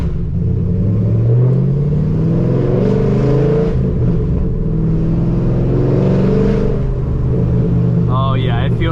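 Fifth-generation Camaro SS driving after a fix for violent shaking, deep loud engine rumble heard from inside the cabin, steady with rising revs, a voice briefly audible near the end.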